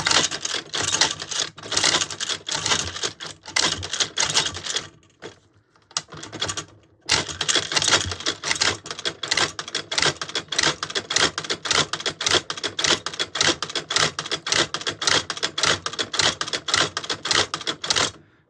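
A GFV 64 Z2 loader pushes rounds into an AK magazine, making a dense run of sharp metallic clicks and clacks at close range. It pauses briefly partway through, then resumes at a steady rapid rhythm.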